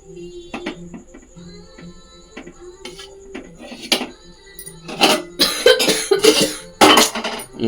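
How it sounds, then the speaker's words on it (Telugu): Several short, harsh coughs burst out near the end, loud and close, following quieter clinking and tapping of dishes. "గీసినప్పుడల్లా దగ్గుతున్నావు నువ్వు"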